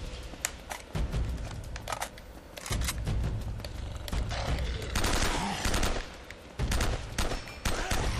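Gunfire in Uncharted: Drake's Fortune crackles in repeated loud bursts and single sharp shots, close and dense, with short gaps between volleys.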